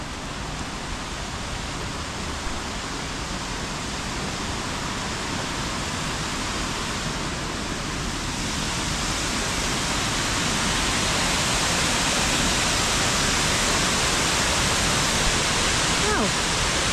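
Rushing river water beside the Millennium Walkway in Torrs Riverside country park in the Peak District, a loud, steady, close roar of churning current that builds slightly and continues throughout.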